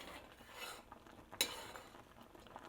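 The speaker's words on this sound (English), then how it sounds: "Don't forget to stirring it. The tapioca is very easy to stick on the pot." Sweet potato and taro tapioca dessert soup stirred in a pot over medium heat, a quiet scraping swirl with faint utensil clinks and one sharper knock against the pot partway through.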